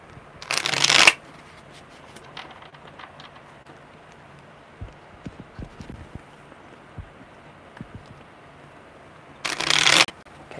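Tarot cards being shuffled in two loud, crisp riffling bursts at the start and end, with quieter soft taps and handling of the deck in between.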